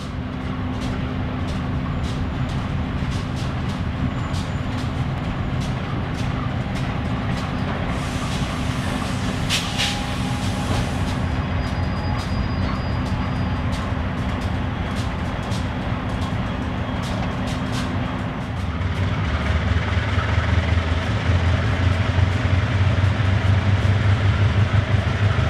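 A rare GE U18B locomotive switches railcars at a corrugated box factory in Honea Path, producing a steady, loud engine drone and rumble throughout. Brief clanks and a higher hiss come midway, and the low engine note shifts and swells near the end.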